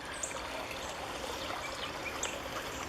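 A small creek and swampy water between old railway tracks, trickling softly and steadily, faint and unbroken, with light outdoor ambience.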